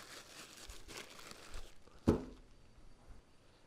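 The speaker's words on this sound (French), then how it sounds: "Ce que j'appelle ma trousse de toilette, ça va dans un sac plastique." A plastic bag crinkles softly while a toiletry kit is packed into a backpack for the Camino Francés, with quiet rustling throughout and one sharper crackle midway.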